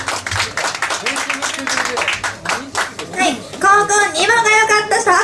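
An audience claps to vote for a contestant at a rap battle event, scattered hand claps building under loud talk from a voice on a microphone.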